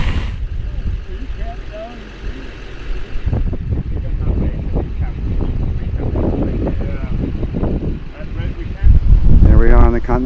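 Strong wind buffets the microphone on a high mountain pass at the Continental Divide along the Idaho–Wyoming route, a loud continuous low rumble that surges louder near the end, with faint voices underneath.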